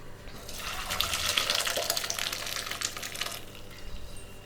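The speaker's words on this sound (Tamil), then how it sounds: "இப்போ இதை வடிகட்டிடலாம் தண்ணியை" Steady rushing water pours and splashes for several seconds, a broad hissing gush as macaroni pasta cooking water is drained, fairly close and constant.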